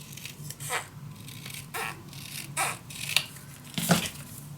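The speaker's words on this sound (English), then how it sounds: "just going to cut these papers in half." Scissors cutting sheets of paper in half for a handmade travelers notebook, with several separate crisp snips spaced irregularly, close up and fairly quiet, with no talking.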